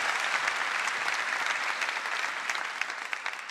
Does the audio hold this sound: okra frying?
no